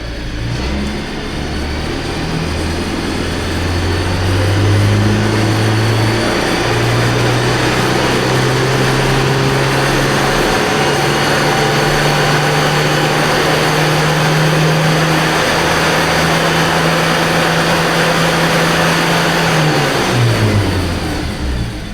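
A car engine on a tuning run climbs steadily in pitch as it revs up to 5000 RPM, holds high and loud, then drops sharply back toward idle near the end, with no talk.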